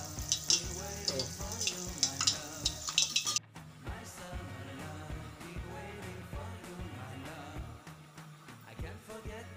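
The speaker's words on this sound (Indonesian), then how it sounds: "Ini ya proses penggorengan pempek adaan." Pempek adaan fish balls fry in hot oil with a continuous close bubbling sizzle, loud crackling bursts at first that settle into a steadier fizz, with occasional utensil clinks and no speech.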